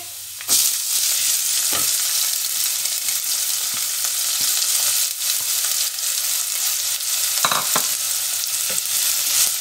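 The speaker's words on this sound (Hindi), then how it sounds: "इसको हम 2 मिनट के लिए भूनेंगे।" Onions sizzle and fry steadily in a hot pan for a spinach and potato sabzi, a continuous close crackle broken by occasional stirring scrapes, with no talking.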